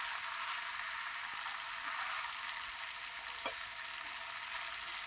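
Chicken frying in a pan gives a steady soft hiss and sizzle, with occasional faint taps and scrapes of stirring, moderately quiet and continuous with no voices.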